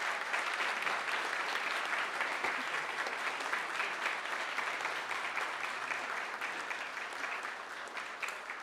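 A crowd applauds at a swearing-in ceremony for new cabinet ministers of the Colombian government, dense clapping that holds steady and then slowly eases off toward the end, with no speech over it.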